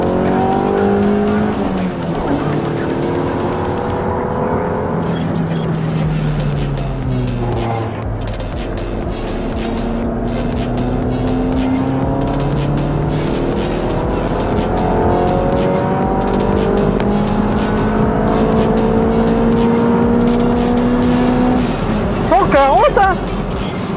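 Rear tires of a standard road car squeal at the limit on a race circuit, with a steady engine drone throughout and a sharper rising screech near the end; people talk over it.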